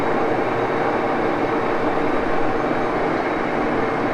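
An engine lathe with a D1-6 spindle turns at 351 RPM while cutting metal off a workpiece's diameter, producing a steady, dense whirring drone that holds constant and close throughout.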